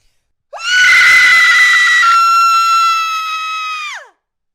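A person imitates a horror-movie scream in the style of Buffy the Vampire Slayer: one loud, sustained high-pitched shriek lasting about three and a half seconds, starting rough and steadying into a clear tone before cutting off.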